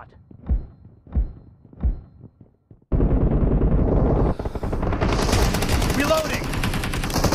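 Rapid automatic gunfire bursts in the mobile game BGMI gun game mode, preceded by a few spaced heavy thumps, then a dense continuous stream of loud shots with crackling impacts.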